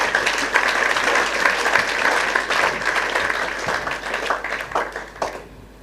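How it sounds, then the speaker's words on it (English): A crowd of young people at a youth entrepreneurship and leadership event in Ghana breaks into sustained applause, many hands clapping densely and loudly for several seconds before thinning out at the end. "Clap for yourself."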